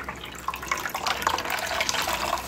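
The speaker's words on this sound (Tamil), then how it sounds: "சுத்தமாக தண்ணி இல்லாமல் பிழிஞ்சிருக்குங்க." Water is squeezed out of grated white pumpkin by hand, a close, soft continuous splashing and trickling of liquid with small irregular drips, heard alone.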